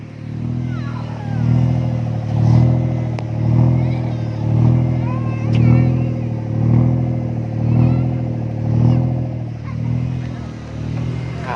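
A Nissan March car engine, fitted with an electronic throttle controller, revs up and down in a regular pulsing pattern, close and loud, with a deep rumble and faint clicks over it.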